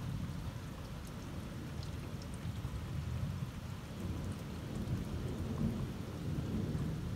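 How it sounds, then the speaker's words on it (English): Thunderstorm during a lightning storm in New Bern, NC, with steady heavy rain and deep rolling thunder rumbling continuously throughout, no voices. "But the thunder and lightning never goes away."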